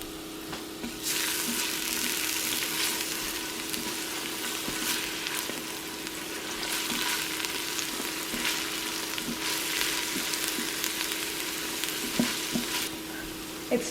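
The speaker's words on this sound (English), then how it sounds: "And as you can hear, it's sizzling already." Garlic sizzles and crackles steadily in hot oil in an electric pressure cooker, a continuous frying hiss with occasional sharper pops, close by and without talk.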